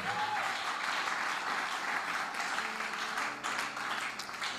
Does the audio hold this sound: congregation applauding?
yes